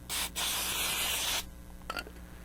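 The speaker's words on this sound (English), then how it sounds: "we're going to go ahead and spray some brake cleaner" A steady hiss of aerosol brake cleaner sprayed on a brake rotor, lasting about a second and a half, close up, followed by a quieter moment and a faint rubbing sound.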